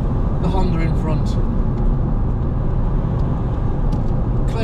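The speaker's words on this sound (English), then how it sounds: "Get a chance to overtake the Honda in front" A car passes a Honda on a rural dual carriageway in the Lake District, giving a steady loud road and engine rumble heard from inside the vehicle, with faint higher noises now and then.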